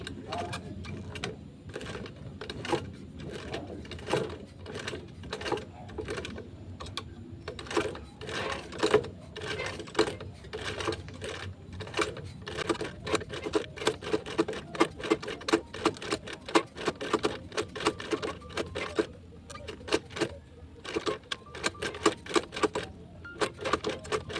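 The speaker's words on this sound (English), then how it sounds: "So I'm going to back stitch." A sewing machine runs in rapid, rattling stitches, back stitching at a steady pace up close for the whole stretch.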